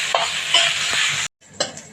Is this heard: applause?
no